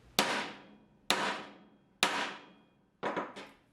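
Four sharp metallic taps of a mallet on a transfer punch marking a hole, evenly spaced about a second apart, each ringing briefly before dying away; the last strike is slightly doubled.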